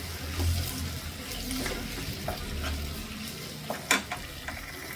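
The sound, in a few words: tomatoes cooking in a pan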